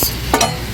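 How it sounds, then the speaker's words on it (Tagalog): Sambusa frying in oil that is not yet very hot, giving a short, faint sizzle with a brief bubbling burst near the middle and no talk. "magprito-prito muna tayo para may kainin yung dalaga ko"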